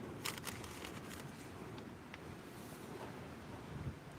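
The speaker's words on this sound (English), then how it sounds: "Can you hear the wind?" Gusty wind blowing outdoors beside a car being worked on, a steady broadband rush buffeting the microphone with a few louder gusts, no talking.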